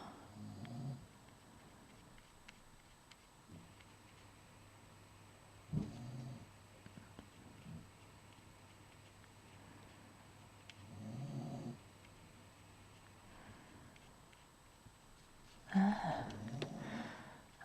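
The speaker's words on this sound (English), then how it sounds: "Excuse Rolo's snoring" A dog snores softly nearby in a quiet room, a few slow, rasping breaths spaced several seconds apart.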